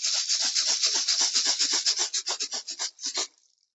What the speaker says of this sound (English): I'm going to use my rattle today to call in the energies.